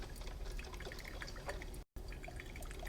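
A coffee maker brews with steady quiet dripping and trickling over a soft background hiss, with a brief dropout near the end.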